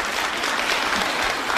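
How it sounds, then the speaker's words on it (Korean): A dense, steady wash of audience applause fills a talk-show hall at full volume, continuous clapping from many hands with no pauses. "박수 칠 때 아니에요?"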